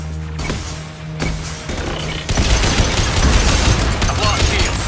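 Automated defensive turret firing in a Legion's Loyalty video game mission, heard as dense, continuous rapid bursts that grow louder and heavier partway through, layered over game effects and ambient noise.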